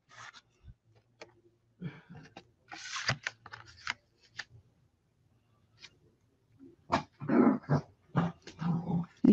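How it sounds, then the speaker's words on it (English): A dog growls in short, low rumbling bursts close by, scattered among rustling and handling noises, with the growls growing louder and more frequent toward the end. "You hear her growling?"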